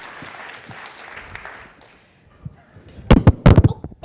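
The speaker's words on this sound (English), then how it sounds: "Let's give Corey a round of applause because that was brave to come up here." A small audience at a talk on communication gives a short, scattered burst of clapping near the end, after a quieter stretch with a voice speaking.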